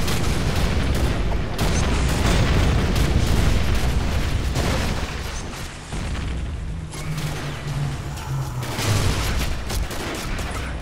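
Grenade explosions and gunfire in a video game pound almost without pause, a dense, loud barrage of booms and bursts that eases briefly midway before building again.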